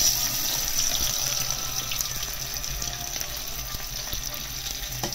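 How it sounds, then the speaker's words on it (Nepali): Sliced onion sizzles steadily in hot cooking oil in a pan, a close, continuous crackling hiss that holds at an even level with no talk over it. "चलो तेल पाकिसकेछ, अब प्याज हालिदिउँ है म।"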